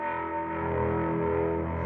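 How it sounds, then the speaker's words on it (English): Electric guitar run through effects pedals with stereo tremolo and added reverb, a sustained, distorted synth-like chord drone holding steady and dense for two seconds. "you're going to hear that guitar ping pong. I put a little bit of stereo tremolo to bounce."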